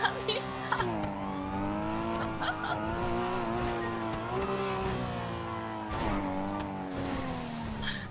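A car engine howls at high revs with squealing tires during a GTA V police chase, a loud, continuous, wavering drone with brief sharp screeches.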